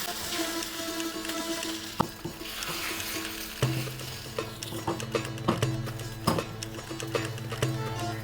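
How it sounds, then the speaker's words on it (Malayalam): Egg batter sizzles on a hot appam pan, a steady frying hiss with a low hum underneath and a few sharp clinks and taps of a ladle against the metal, close and fairly quiet, with no voices. "അപ്പക്കല്ല കരണ്ടി നല്ല ചൂടായിട്ടുണ്ട് നമുക്ക് ഒഴിച്ചു കൊടുക്കാം ഒന്നിങ്ങനെ ചുറ്റി വിടാം"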